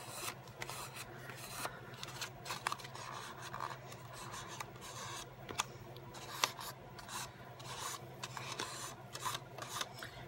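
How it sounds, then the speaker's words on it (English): Excess tape is peeled off both sides of a homemade lampshade, producing faint, continuous raspy rubbing and scratching with scattered small crackles. "I'm just peeling off any excess tape on both sides."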